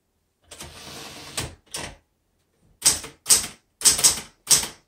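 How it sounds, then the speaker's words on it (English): Keys struck on a blue 1970s Smith Corona Galaxie Twelve typewriter: a short burst of clacking, a pause, then several crisp separate keystrokes close up. "let's go ahead and type on this machine"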